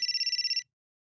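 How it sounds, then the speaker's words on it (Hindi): A mobile phone rings with a rapid, pulsing electronic trill, loud and close, for about half a second before cutting off abruptly into silence. "मेरा फोन बज रहा है"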